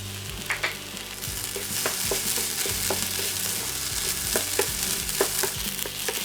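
Onions softening in a hot pan for a Chaliapin steak topping, with a steady close sizzle and frying hiss throughout, broken by occasional scrapes and taps of stirring.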